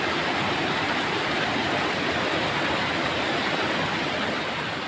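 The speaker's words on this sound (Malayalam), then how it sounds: "ഇത് ആക്കച്ചേരി വെള്ളച്ചാട്ടം എന്ന് പറയുന്ന" Aakkachery waterfall near a rubber plantation, a loud, steady roar of falling water filling the whole scene without pause, close by and with no voices.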